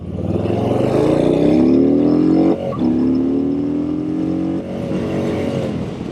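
Harley-Davidson Street Bob 114 motorcycle accelerating hard through the gears up to the rev limiter, with a loud, steady engine roar that climbs in pitch and breaks briefly at two shifts. No voices.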